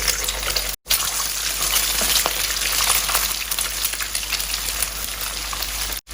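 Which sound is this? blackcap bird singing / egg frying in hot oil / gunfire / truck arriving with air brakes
egg frying in hot oil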